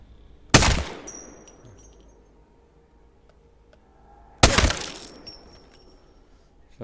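Two sharp gunshot impacts from a light or submachine gun in the Apex Legends video game, landing as headshots with a glassy crack, spaced about four seconds apart, each loud and followed by a short fading ring.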